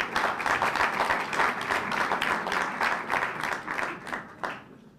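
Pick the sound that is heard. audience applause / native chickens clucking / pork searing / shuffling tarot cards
audience applause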